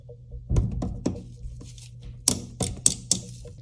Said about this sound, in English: now I'm gonna tap on these, and hopefully they pop loose